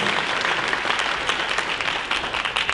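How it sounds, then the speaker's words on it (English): An audience at a hackathon gives a round of applause, a continuous dense clatter of many hands, fairly loud and even throughout. "We'll give them a round of applause."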